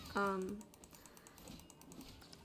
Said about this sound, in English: If you can hear me clicking in the background